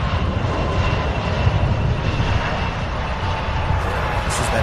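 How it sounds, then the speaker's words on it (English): A seven-year-old Delta Embraer E175 LR jet arriving from Minneapolis at Louisville produces a loud, continuous engine roar that stays steady for several seconds, close and unbroken by speech. "This is that Delta flight out of Minneapolis, Delta 3688, a 7-year-old E175 LR."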